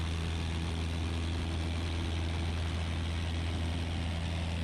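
A Piper light aircraft's engine runs at full power during its takeoff roll down the runway, a loud steady droning roar with a low propeller hum and no voices over it.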